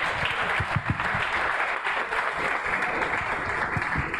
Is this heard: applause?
yes